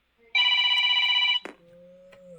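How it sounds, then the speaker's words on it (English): A telephone rings with one long, loud electronic trill lasting about a second, then stops abruptly, followed by a quieter steady tone, heard during a turn-based strategy game session with an aircraft carrier and battleship moves. "Hang on, guys. I got a phone call."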